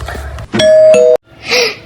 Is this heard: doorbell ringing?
yes